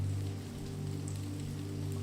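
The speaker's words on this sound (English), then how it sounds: "each patter of cool rain that lands on your lips, collarbones, and hands" Cool rain patters softly and steadily as the first storm clouds arrive, a quiet even wash of drops with a low hum underneath and no voices.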